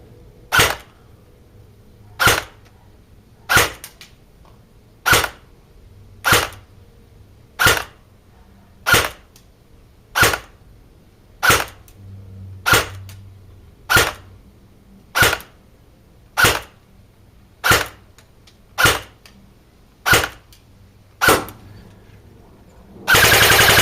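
An E&L AK105 airsoft rifle fires single shots outdoors during a chronograph test, about fifteen sharp, evenly spaced cracks roughly every 1.5 seconds, loud and close with quiet pauses between.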